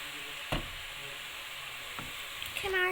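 Sago murukku made from tapioca pearls fries in hot oil with a faint, steady sizzle, broken by a few soft clatters while people talk nearby.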